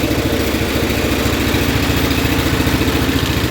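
A Kohler K341 16 HP single-cylinder engine idles on a John Deere 210 garden tractor, giving a loud, close, steady low thumping that stays constant with no voices.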